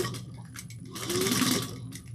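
Sewing machine top stitching a tote bag at an eighth of an inch, a brief steady close run of stitching with a rhythmic needle patter.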